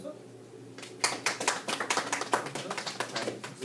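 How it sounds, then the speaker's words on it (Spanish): Audience clapping at a seminar on the Mexican Space Agency, starting abruptly after a quiet moment and continuing as steady, moderately loud applause from a small crowd. "Por favor, un aplauso."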